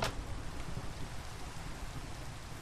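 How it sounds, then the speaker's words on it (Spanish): Steady rain hisses and patters through a thunderstorm in the video game Minecraft, a dense continuous wash of falling water with no distinct thunder crack, heard alone. "Y vaya tormenta que hay, ¿no? Porque no para de llover."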